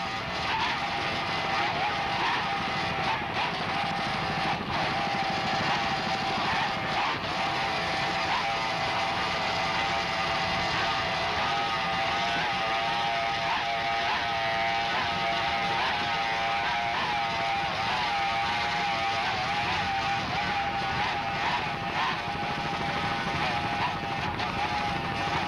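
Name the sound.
offshore racing powerboats, 1995 Miami Beach Grand Prix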